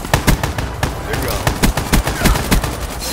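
Rapid, loud gunfire from the BRECCI shotgun in the video game Black Ops 3, with a steady string of sharp blasts close up and a voice talking over the shots.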